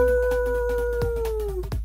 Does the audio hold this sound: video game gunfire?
no